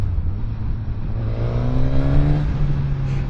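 A Suzuki GSX-S1000 motorcycle engine accelerates steadily, its tone climbing from around 3000 RPM in active mode as the ride continues, with a loud continuous drone and rising whine, no talk.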